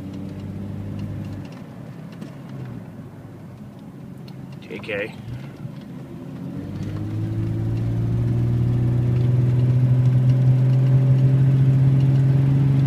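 A 1996 Jeep Cherokee Sport engine with a slight flutter runs while driving, a low hum that swells louder and steadier toward the end, with a brief bit of speech early on.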